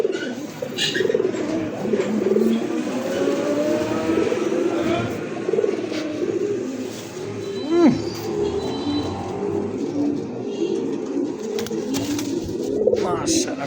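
A mated pair of Rasgolla racer pigeons coos steadily and close by, soft repeated throaty calls layered with a few faint chirps and background murmur throughout.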